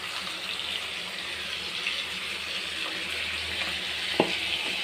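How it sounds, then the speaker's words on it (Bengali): Cumin frying in a little oil in a pan, a steady close hiss and sizzle with a soft watery texture and one sharp clink near the end, no voices. "একটু জিরার সাথে এখন অনেকক্ষণ একটু কষিয়ে নেব"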